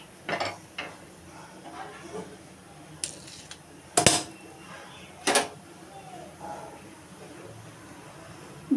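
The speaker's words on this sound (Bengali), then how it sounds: "শাকটা দিয়ে আমি ঢাকা দিয়ে দিলাম" A metal lid is placed over a small pan (kadai) of taro greens, with several sharp clanks and a few softer clinks and scrapes among faint kitchen noise.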